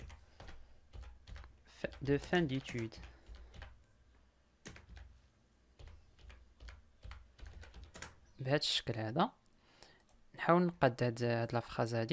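Typing on a computer keyboard in a quiet room, with light, irregular clicking bursts between stretches of a nearby person talking.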